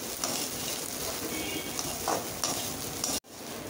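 A steady, dense sizzle from sautéing in a kadai for anchovy thokku, close and even, with faint stirring scrapes, then a sudden brief cut near the end, without any voices.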